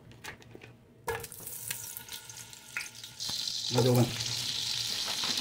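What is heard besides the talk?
butter sizzling in hot olive oil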